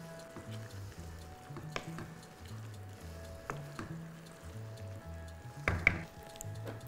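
Trofie pasta finishes cooking in a sauce in a pan, giving a soft, steady sizzle with occasional sharper pops and stirring clicks, fairly quiet and close.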